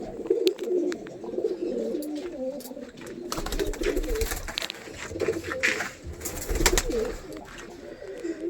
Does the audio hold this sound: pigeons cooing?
yes